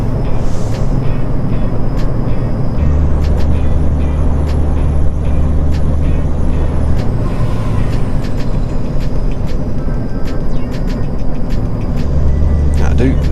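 A Volvo truck in American Truck Simulator drives along at a steady, loud engine drone, with a brief hiss and clicking effects partway through while someone talks over it.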